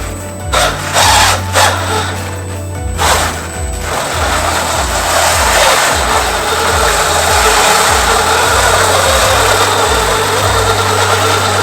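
Electric motor of an RC crawler, a RedCat Gen 8 or Traxxas TRX4, driving up an incline with a boost, giving a loud, steady whine and rumble that builds after a few brief knocks and scrapes.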